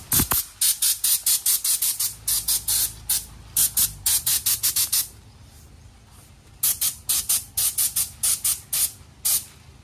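Short repeated bursts from a spray gun applying sanding sealer to a wooden door, loud hissing blasts in quick rhythmic runs with a pause in the middle before the bursts resume.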